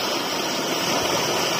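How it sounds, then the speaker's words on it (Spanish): Snowmelt floodwater rushes across a farm field in Navares de Ayuso, Segovia, near the Eresma river, a steady, loud, close roar of churning water with no break and no voices. "es el agua tras el deshielo arrasando este campo de cultivo en Navares de Ayuso, Segovia"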